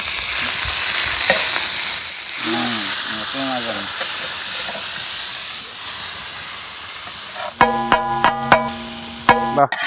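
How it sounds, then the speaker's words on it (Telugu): Tuna pieces fry in a pan with onion and tomato in an Andhra-style spicy tuna fry, giving a loud, continuous sizzle and hiss with stirring scrapes. A tonal beeping rings out near the end. "కట్ చేసుకుని టోనా పీస్ వేసుకుంటున్నా."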